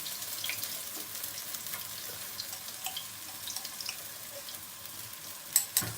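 Chili sauce hitting a hot wok with garlic, scallion and ginger for minced pork and tofu, giving a steady close sizzle with faint stirring clicks and a sharper crackle near the end.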